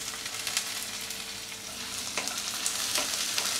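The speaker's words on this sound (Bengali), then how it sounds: "আদা রসুন বাটা দিলে যে তেল থেকে ঝিরঝিরায় করে গায়ে এসে লাগে" Ginger and garlic paste sizzling in hot oil over medium heat while fish roe bhuna is cooked, a steady bright crackling hiss that runs without a break for the whole stretch, with no voices over it.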